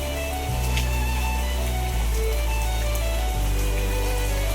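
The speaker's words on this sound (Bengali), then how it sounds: "ভালোই বৃষ্টি হচ্ছে।" Heavy rain pours steadily outside a home where the street has flooded, a dense continuous wash with no voices over it.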